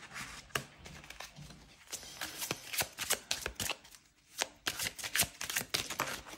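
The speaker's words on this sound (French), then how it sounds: "Je vais tirer deux cartes." Tarot cards from an oracle-style deck being handled and drawn, a run of quick papery flicks and snaps close to the microphone with brief pauses between them, no talking.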